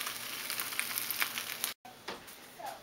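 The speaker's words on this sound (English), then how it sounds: "I am now frying the taquitos" Chicken taquitos fry in oil in a hot pan, a steady, close, fairly quiet sizzling and crackling hiss with a brief gap partway through.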